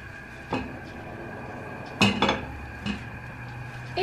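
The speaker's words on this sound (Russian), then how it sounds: "Сковорода на огне." A frying pan and kitchenware are handled on a stove, with three separate clattering metal knocks and clinks spaced apart over a quiet background, close by and without speech.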